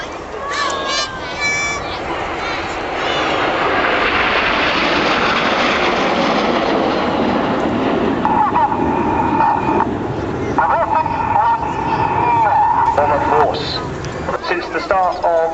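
A loud, sustained jet roar from Red Arrows aircraft flying a display formation at an RAF Marham family day, rising and swelling over several seconds beneath continuous commentary.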